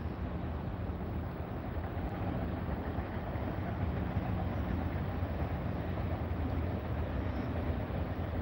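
A CSX freight train rolls past nearby, a loud continuous rumble of wheels and cars on rail with broadband roar and some wind buffeting, sustained throughout.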